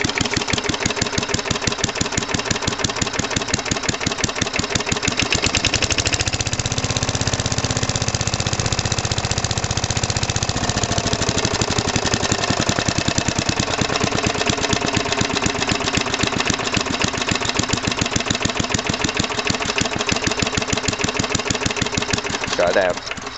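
A worn Briggs engine runs on a snowy, cold day, chugging loud and close in a steady rhythm that holds for the full length, its tone shifting slightly partway through.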